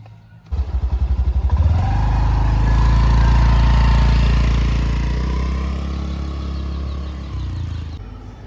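A motorcycle engine fires up, revs through a quick throbbing burst, then settles into a loud, steady close-up roar that slowly eases off.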